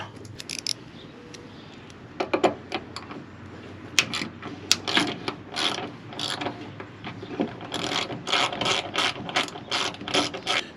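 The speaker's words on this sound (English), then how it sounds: "so now we'll take this bolt out" A ratchet wrench clicks as it backs a bolt out of an Aluminess rear door rack on a Mercedes-Benz Sprinter van, with bursts of rapid close pawl ticking and short pauses between strokes.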